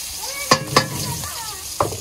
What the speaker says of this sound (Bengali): দেখেন পেঁয়াজ ভাজি করব।